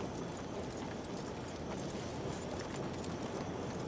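Horse hooves clip-clop steadily through a busy town in the Red Dead Redemption 2 game world, a continuous soft rhythmic clatter under ambient game noise with no talk.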